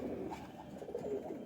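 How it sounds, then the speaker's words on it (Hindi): A Rampuri pigeon coos softly and steadily, a low repeated burbling heard faintly at close range with no voices over it. "कबूतर रामपुरी उस्ताद जी मज़े का कबूतर है।"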